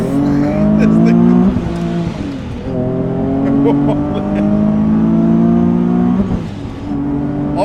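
A Nissan 350Z 'Death Kart' pulls hard from first gear, its engine note climbing in steady rising sweeps through the revs with brief dips at the shifts, loud and close inside the car.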